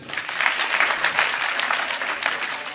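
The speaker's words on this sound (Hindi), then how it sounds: "चलो 2-5 बच्चे हैं, तो एक बार इनके लिए भी ताली बजाओ।" Schoolchildren at a school gathering clap together for a few classmates, a brisk, moderately loud burst of applause with uneven rhythmic surges throughout.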